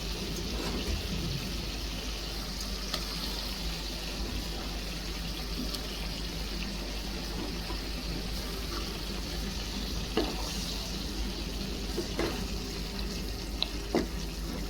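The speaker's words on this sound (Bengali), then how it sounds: "মশলাটা যেহেতু অনেক কষে গেছে এখন আমি মাছটা দিয়ে দিব" Fish fries in a pan of well-cooked spice masala, a steady low sizzle with occasional small pops and stirring clicks, close and even throughout with no talking.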